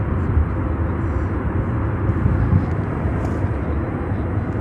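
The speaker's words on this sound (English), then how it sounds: "Atlas Air 747-400 taxiing down to us." An Atlas Air Boeing 747-400 taxiing at O'Hare airport, a loud, steady jet engine roar with a broad low rumble and high whine, unbroken for the whole stretch.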